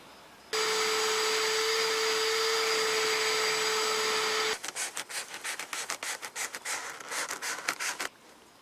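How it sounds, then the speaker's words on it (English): A vacuum cleaner runs steadily and loudly with a constant motor whine while sucking at the carpet of a Firebird's trunk, then gives way to a burst of rapid, uneven scrubbing and brushing strokes on the carpet. "I vacuumed out this trunk area and cleaned up everything half-ass"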